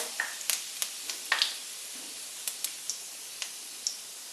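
Whole spices — a piece of cinnamon, three cardamom pods, a spoon of cumin and a bay leaf — crackle in hot oil with soft, steady sizzle and scattered sharp pops, close and fairly quiet, no voices.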